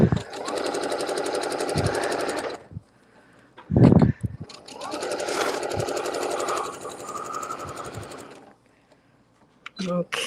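A sewing machine runs a quilt seam in steady, close bursts of rapid stitching, stopping briefly midway before a second long run, with short handling noises between and someone talking over parts of it.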